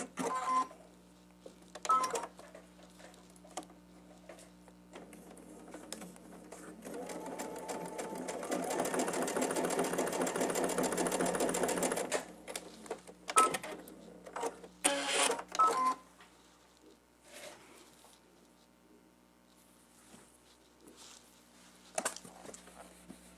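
A sewing machine stitches a scant quarter-inch seam on a star sampler quilt block, a close, steady motor whir running for several seconds in the middle, framed by clicks and handling of fabric and the machine before and after.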